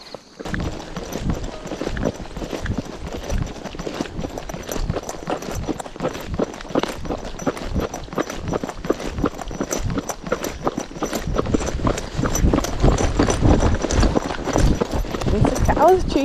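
A horse clip-clops steadily along a trail on a training ride before a first endurance ride, the hoofbeats close and continuous and growing a little louder, with a rider talking over them.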